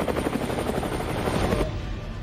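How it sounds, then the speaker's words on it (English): A helicopter in flight from a superhero fan film, its rotor chop pulsing loudly and steadily throughout, with the noise dropping off sharply near the end. "He's in a chopper."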